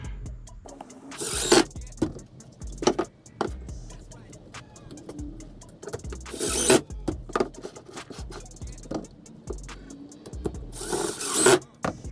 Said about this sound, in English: And we'll take it this way, we'll countersink it.